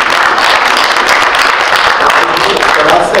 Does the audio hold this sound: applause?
yes